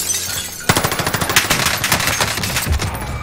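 Rapid automatic gunfire in the shooter game Warzone, a loud sustained burst of shots after a short lull, continuing steadily to the end.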